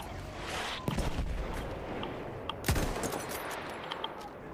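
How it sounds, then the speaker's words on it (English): Enemy machine gun fire in Battlefield 1 rattles in rapid bursts under a dense, continuous battlefield roar, with a couple of sharper, louder cracks standing out. No voices are heard. "Enemy machine gun over there!"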